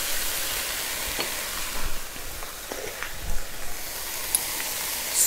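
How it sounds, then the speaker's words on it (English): Spring onions and spices, including Kashmiri chili powder, frying in a pan, a continuous soft sizzle with occasional stirring scrapes and clinks, moderately close, no voices. "let this fry up a little bit before we add our chicken in here."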